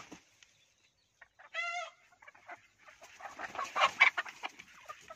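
Free-range country hens about a year old cluck in a farmyard: one short clear call, then quiet, then a run of rapid, busy clucks nearby.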